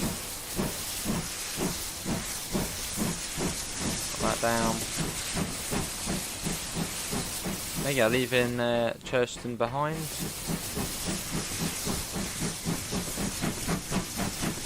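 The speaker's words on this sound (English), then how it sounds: "With the safety valve being very noisy as well." A steam locomotive's safety valve hisses steadily in Train Simulator Classic near Churston, over regular exhaust chuffs, while someone talks over it.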